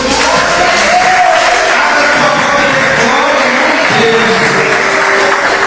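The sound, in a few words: church congregation applauding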